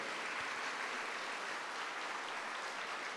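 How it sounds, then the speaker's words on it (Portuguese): A church congregation claps together for Saint James the Apostle, a steady wash of hand clapping heard from some distance, soft and even throughout without any speech. "Vamos dar um salve de palmas ao São Tiago Apóstolo."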